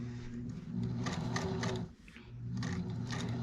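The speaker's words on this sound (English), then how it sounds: "I know how to use a sewing machine." Sewing machine stitching a sweater, its needle running in a fast, even mechanical chatter close by, pausing briefly midway before starting up again.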